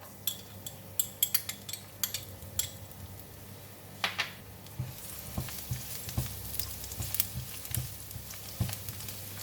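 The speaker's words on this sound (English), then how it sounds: "Oil is hot, I'm putting in the garlic." Chopped garlic hitting about a tablespoon of hot cooking oil in a pan, first a few sharp clinks and taps of utensils, then a steady close crackling sizzle with scattered pops and a scrape around the middle.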